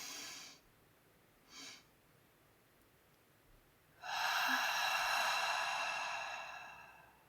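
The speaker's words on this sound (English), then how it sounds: "We're going to do 2 inhales, 1 big sip, 1 small sip." Deep physiological-sigh breathing: two quick inhales through the nose, one big and one small, then a long, steady, audible exhale, all close and quiet with no talking.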